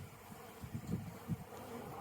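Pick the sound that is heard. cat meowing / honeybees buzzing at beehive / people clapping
honeybees buzzing at beehive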